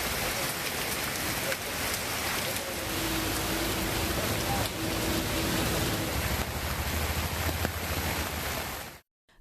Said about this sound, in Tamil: குறிப்பாக நீலகிரி மாவட்டம் முழுவதும் கனமழை கொட்டியது.